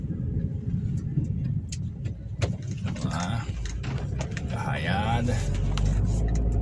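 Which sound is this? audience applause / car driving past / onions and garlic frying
car driving past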